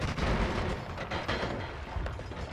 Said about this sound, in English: Whoa, so many explosions, so much excitement.